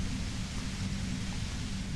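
Steady hissing broadband static from the video game Disco Elysium, an even, unchanging noise bed with a low rumble underneath, with no voices or distinct events.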